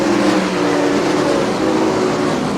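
Sprint cars racing on the dirt oval at Jackson Speedway, a loud, continuous engine roar with a droning, slightly shifting pitch as the field runs through the turns.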